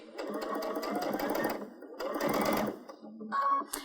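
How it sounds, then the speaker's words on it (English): A sewing machine stitches around patchwork fabric for a stocking in two bursts of steady, close mechanical whirring, each run stopping before a short final pass. "I'm just going to take my fabric and put it inside here and then just stitch around."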